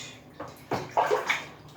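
Bath water sloshing around a baby in a tub, several soft splashes and swishes of varying loudness at close range, with no talk over them.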